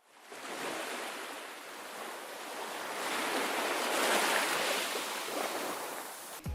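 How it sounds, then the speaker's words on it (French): Gentle ocean waves roll and wash steadily as relaxing background sound for the Android recycling game Pollutron, a continuous soft surf that swells slightly toward the middle, with no voices. "avons choisi en guise de musique de fond, un doux bruit de vagues"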